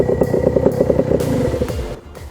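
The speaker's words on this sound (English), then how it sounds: "it's time to drive the kart you're all here to see, the 50 horsepower KZ gearbox kart" A 50 horsepower KZ gearbox racing kart engine buzzes and revs in quick pulsing bursts, loud and close, with rapid rises and drops in pitch as it works through the gears over a couple of seconds.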